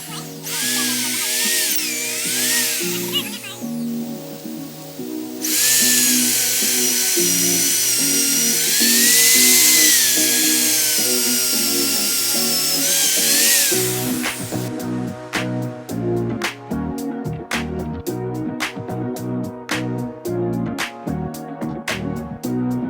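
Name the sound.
hammer drill drilling through wood post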